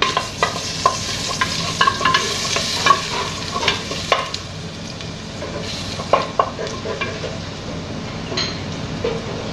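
Garlic sautés in cooking oil for a meat filling, a steady close sizzle with frequent scraping stirs and light metallic clinks of a utensil against the pan.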